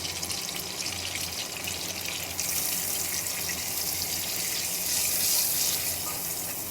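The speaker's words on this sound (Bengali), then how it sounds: "এবারে কিছুটা জল দিয়ে দিচ্ছি।" Water pours steadily into ground black and white mustard paste in a pan, a continuous close splashing gush that grows fuller partway through and swells toward the end, with no talking.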